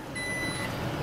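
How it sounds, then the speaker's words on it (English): Power liftgate warning beeps on a 2015 Jeep Grand Cherokee Limited EcoDiesel as the gate starts lowering: a steady high electronic tone holds for about half a second over low, constant background rumble, with no talking. "So pushing it will beep a couple times, then it'll slowly come down."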